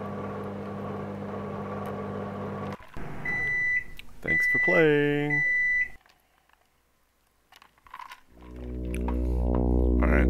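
In a video game, a microwave oven hums steadily before a run of electronic beeps and a rising tonal chime, followed by near silence and then a low swelling drone, with a voice speaking briefly.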